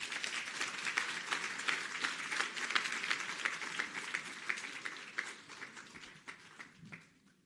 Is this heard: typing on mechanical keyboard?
no